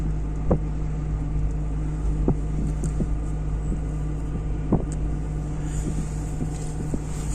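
A heavy tractor engine drones at a low, steady pitch, laboring continuously to pull a stuck Amarok, with occasional knocks and clanks, heard close and without talk.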